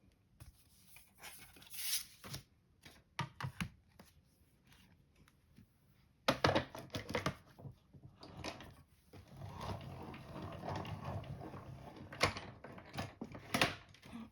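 A paper layer inside an embossing folder is run through a hand-cranked embossing machine, giving close mechanical clicks, rolling grinding and clunks in irregular bursts that grow busier in the second half, with no talking.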